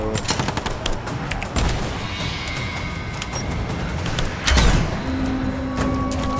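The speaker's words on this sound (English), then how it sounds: "gotta use explosives to destroy the metal barriers" Explosions blast apart metal barriers in the action game Rise of the Tomb Raider: two deep booms land amid a continuous clatter of rapid gunfire and loud, dense combat noise.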